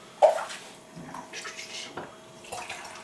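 C-41 film developing chemical is poured out in short splashing bursts, with a faint clink at the start and trickling between pours, quiet and close.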